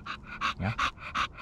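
A dog pants rapidly and rhythmically after a 2.5-mile hike in the woods, with about a half-dozen close, breathy bursts, and a person briefly speaks.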